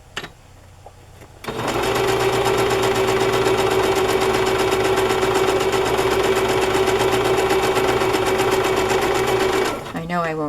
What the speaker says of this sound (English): I'm just going to sew a gathering stitch, which is a basting stitch, the longest stitch on your machine